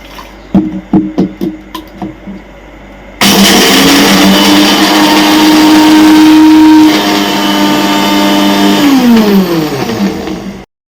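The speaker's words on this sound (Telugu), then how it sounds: "మిక్సీలో వేసుకొని గ్రైండ్ చేసుకుందాం." A few sharp clicks, then a mixer grinder motor starts grinding sesame seeds and peanuts with a loud, steady whine that shifts pitch before winding down.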